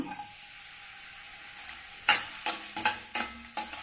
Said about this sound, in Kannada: ಸ್ವಲ್ಪ ಗೋಲ್ಡನ್ ಕಲರ್ ಬರೋವರೆಗೂ ಈ ಥರ ಫ್ರೈ ಮಾಡ್ಕೊಳ್ರಿ